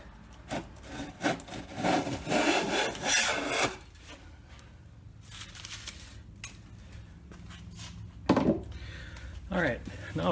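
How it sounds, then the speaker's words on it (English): A hand plane takes quick rough passes along the edge of a two-piece guitar body blank, giving close scraping, rasping strokes in bursts with quieter gaps between them. "I'll start doing some quick rough planing just to smooth out the"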